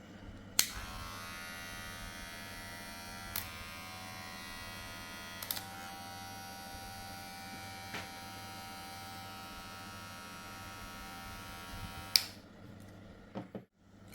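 An AUX S6 electric hair clipper runs with a steady high buzzing whine over a low hum, interrupted by a few sharp clicks and knocks from handling, fairly quiet and close.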